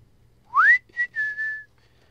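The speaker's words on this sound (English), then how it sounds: "I hope it hurts when I whistle." A clear two-part whistle from a character in the video game Fallout New Vegas: a rising slide followed by a short note and a longer held tone, close and alone.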